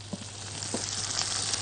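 Onions frying in a pan, a continuous close sizzle with a faint crackle and a couple of soft stirring knocks, steady throughout with no talking.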